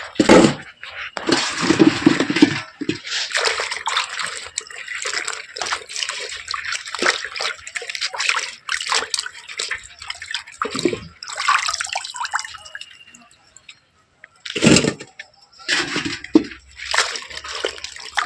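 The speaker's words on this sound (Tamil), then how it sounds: "அழுக்கானது தண்ணீரில் அலசும்போது சுத்தமாகிவிடும்." Palmyra sprouts are rinsed and swished in water to wash off clinging soil, giving repeated loud splashing and sloshing bursts that run through the whole stretch, broken by short pauses.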